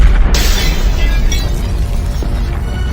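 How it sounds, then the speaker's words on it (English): A sudden loud blast in the forward cargo compartment of an Air India airliner in flight, a sharp boom followed by a sustained roaring rush that continues at high level to the end. "Suddenly, an explosion occurred in the forward cargo compartment."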